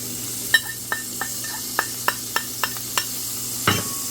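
Garlic, about five cloves, sizzles in a non-stick pan for an Italian meatball dish, a soft steady fry punctuated by regular light spatula taps and scrapes, with one louder stir near the end, and no speech.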